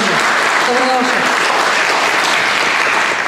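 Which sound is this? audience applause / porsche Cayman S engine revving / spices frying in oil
audience applause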